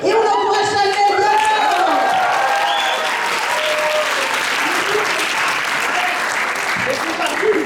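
A crowd at a Paris improv match applauds the players with loud, sustained clapping and cheering, whoops and shouts rising over the dense applause throughout.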